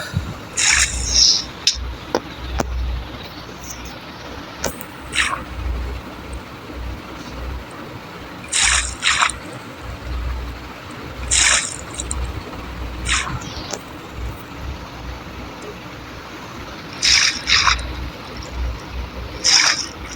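Flowing water in the video game Minecraft, a soft continuous trickle with repeated brief splashy bursts at irregular intervals, fairly close and without talk over it.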